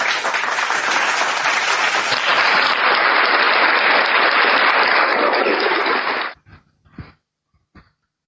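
Sustained audience applause at an Islamic religious debate event, loud and dense for about six seconds before cutting off abruptly, followed by a few scattered claps.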